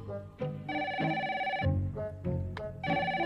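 Old-style telephone bell ringing in a French animated cartoon, several bright repeated rings in bursts with short gaps, close and clear with no voices.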